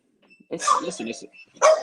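A French bulldog barks indoors, a few short close yips and barks in quick succession at moderate loudness.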